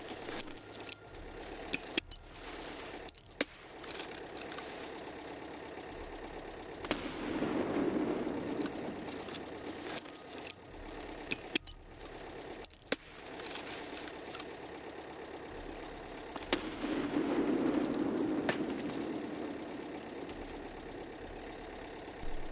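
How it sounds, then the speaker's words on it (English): Grenades go off in the Escape from Tarkov video game, two heavy booming blasts several seconds apart, each swelling and rolling away, with sharp cracks of gunfire and clattering bursts scattered between them over a quiet background. "I tossed over grenades"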